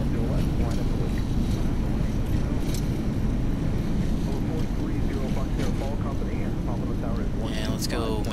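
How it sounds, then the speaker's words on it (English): An airliner's thrust reversers on the landing rollout at Fort Lauderdale make a loud, heavy, rushing roar that fills the whole clip, with faint voices under it toward the end. "We're down. Reverser is engaged."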